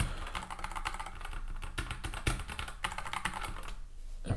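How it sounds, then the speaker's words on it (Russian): Fast, steady typing on a mechanical keyboard produces dense, crisp key clacks, close and loud, with no talking. "когда ты держишь две клавиатуры с разными переключателями"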